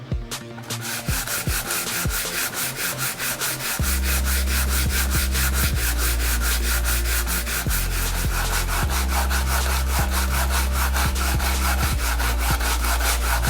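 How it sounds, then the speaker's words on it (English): A wooden bottle opener is sanded by hand, giving steady, rapid back-and-forth rasping strokes that run close and loud throughout with no talking. "So we're going to sand."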